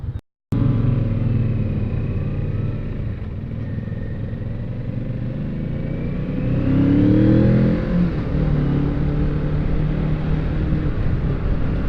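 A BMW GS motorcycle engine drones steadily at highway speed, a loud continuous low rumble with wind noise, swelling briefly as it winds up before settling back to a constant cruise.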